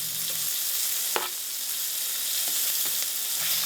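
Delicate pan-fried smelts with green onion sizzle steadily in a pan with minimal oil, a close, even frying hiss punctuated by a few soft scrapes and taps as they are stirred.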